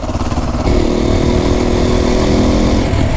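A motorcycle engine runs steadily during a cross-country ride, a loud, continuous mid-pitched drone that steps up in level early on and holds a sustained hum without pauses.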